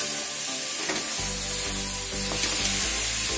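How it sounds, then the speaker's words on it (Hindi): Potato mixture with red chilli sizzles and fries steadily in a hot pan, a loud continuous hiss with a low bubbling crackle, close up and alone without talk. "ये हमने नमक दे दिया और इसमें हम देंगे ये रेड मिर्च। देखिए ये थोड़ा सा हमने रेड मिर्च दे दी, अभी इसको हमने फ्राई कर लिया।"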